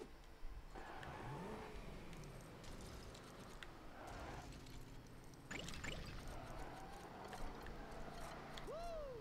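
A car drives in LEGO City Undercover, its engine humming and revving in swells with game effects over it. The sound is faint and continuous.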